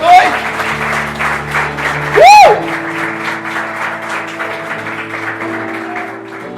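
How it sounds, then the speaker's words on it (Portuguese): A church congregation applauds in a dense, steady burst of clapping that fills the room, with music and a sustained tone playing underneath and a brief swooping sound near the start. "Você pode aplaudir a Jesus nessa noite?"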